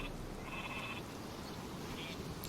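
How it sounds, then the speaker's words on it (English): Sheep bleating in the strategy video game Northgard, several short repeated calls over a steady background of game sound and music. "Sheep coming over right there."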